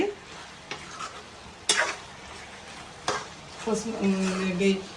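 Mutton boti curry with chili powder is stirred in a sizzling pan, with steady close frying hiss, scraping stir strokes and occasional clinks of the spoon against the metal.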